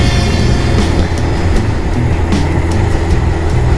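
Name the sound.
Harley motorcycle riding along the road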